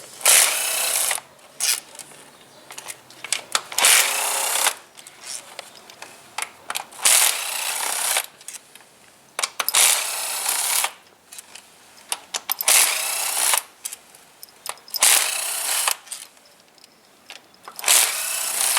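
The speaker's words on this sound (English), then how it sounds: "we need to get a 10mm socket now. Then we need to start removing a few bolts." A 10mm ratcheting socket wrench loosens transmission valve body bolts on a Chevrolet 6T-series gearbox, making repeated bursts of rapid ratchet clicking separated by short pauses, close and fairly loud.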